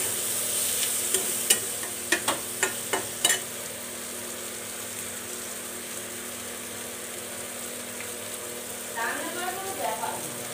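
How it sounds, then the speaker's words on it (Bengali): Shrimp frying lightly in a pan with salt and turmeric, a steady soft sizzle running throughout, with a few sharp utensil taps and stirring knocks early on and faint scraping near the end. "চিংড়ি মাছটা এখানে নুন হলুদ দিয়ে ভেজে নিচ্ছি"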